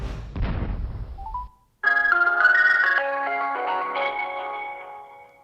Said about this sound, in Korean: 그래서 저의 제자와 전화 연결을 준비했습니다